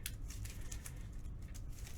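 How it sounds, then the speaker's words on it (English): Playing cards shuffled for a Marvel Champions card game, giving soft, quick riffling and crinkly flicks that repeat close by over a low background rumble, with no one speaking. "Let's go ahead and shuffle up our player deck here"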